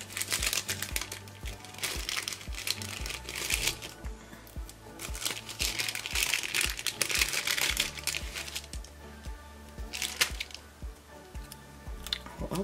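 Sheets of small multicolored flag stickers are handled and peeled, giving a steady run of close crinkling, rustling paper and plastic clicks, with no talking.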